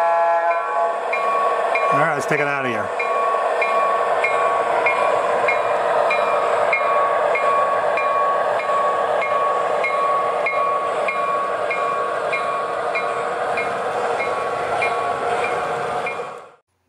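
An MTH model train locomotive plays its sound effects through the DCS control app: a short horn blast near the start, then a steady humming engine drone with rhythmic chuffing running throughout, while someone speaks briefly.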